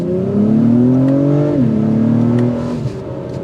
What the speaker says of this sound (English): supercar / sports car exhaust note that filters in. It's not going to sound like a V8, but it sounds very clear for a turbo.